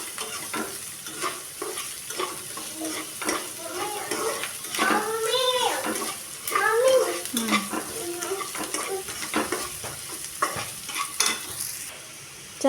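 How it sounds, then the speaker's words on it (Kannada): Onions fry in hot oil toward golden for palak paneer, an even close sizzle with repeated spatula scrapes and clinks against the pan, while a voice briefly talks over it midway. "ಈರುಳ್ಳಿ ಎಲ್ಲ ಗೋಲ್ಡನ್ ಕಲರ್ ಬರೋ ತನಕ ಚೆನ್ನಾಗಿ ಫ್ರೈ ಮಾಡ್ಕೋಬೇಕು"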